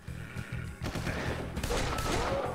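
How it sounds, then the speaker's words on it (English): Burst gunfire from a former-human rifleman enemy in a custom Doom-style game level, a dense rattling volley of shots that builds into continuous loud firing over a couple of seconds, with no voice over it. "It's a former human rifleman, where they'll just do a burst fire."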